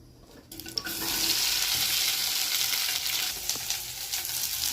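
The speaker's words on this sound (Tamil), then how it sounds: "வெண்டைக்காய் வதங்கிட்டே இருக்குது" Cut okra sautéing in oil in a kadai, a steady loud sizzle and crackle close by that swells as the pieces hit the hot oil and then holds continuously, with faint stirring and clinks.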